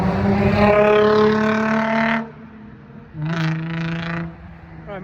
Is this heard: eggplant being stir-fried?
no